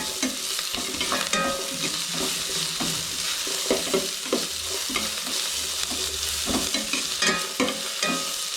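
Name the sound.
chicken frying in a pan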